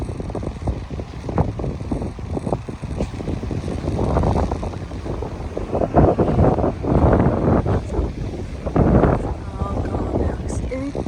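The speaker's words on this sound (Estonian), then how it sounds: "Mis tuuline on küll." Strong gusty wind batters the microphone at Old Woman Bay on a Canadian road trip, roaring in uneven surges over a distant wash of surf.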